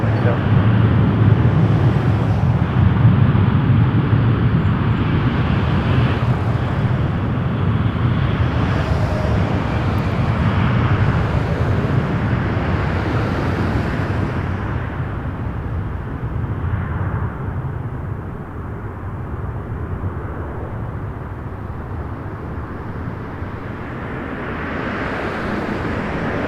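An airplane taking off from runway 24 right at Toronto Pearson Airport, a broad steady roar that slowly fades as it moves away, with radio chatter heard over it.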